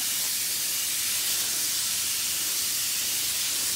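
An insecticide sprayer hisses steadily and continuously close by, spraying a garden tree against caterpillars on an afternoon, with no talk over it.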